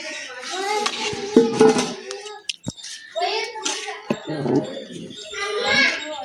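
Rice being stirred in a large pot of 5 kg birthday-party biryani, with metallic ladle scrapes and clinks against the pot, heard under a voice talking through most of the stretch.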